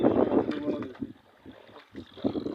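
A small fishing boat is rowed on a river, with low rumbling water and wind noise close to the microphone and a voice speaking briefly.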